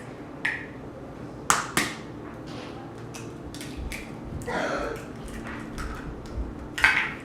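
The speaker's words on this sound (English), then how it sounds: "go ahead and crack them on a flat counter" Two eggs cracked on a flat counter give a few sharp, short knocks and taps, separated by quieter handling sounds in a kitchen.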